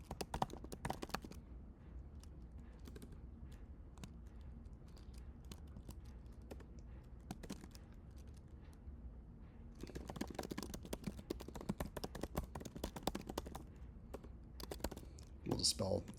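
Computer keyboard typing while writing code in the Emacs editor, quick soft clicks coming in bursts with pauses between, quiet and close.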